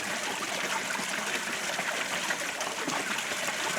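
Water trickles steadily through a bicycle-powered sluice and hand-cranked trommel, a continuous hissing wash with no pauses, fairly close and alone.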